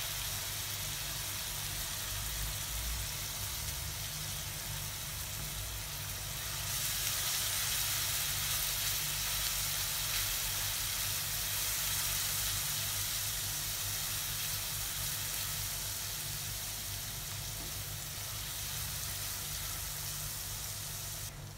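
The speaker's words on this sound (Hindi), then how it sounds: "लहसुन को भी अच्छे से भून लेंगे।" Garlic frying in a pan with aloo bharta cooking, a steady close hiss of sizzling oil that swells louder midway and holds for a long stretch, with no talk over it.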